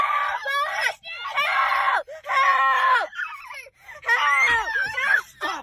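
Kids screaming inside a car, several loud shrill bursts of yelling and wailing in quick succession with short pauses between, close and dominant.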